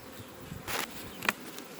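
Honey bees buzz faintly around an opened hive, a soft brief drone with a sharper close pass near the end, heard alone.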